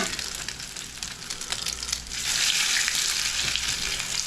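Salmon fish cakes fry in hot oil, a close, dense crackling sizzle that swells louder halfway through as they are flipped.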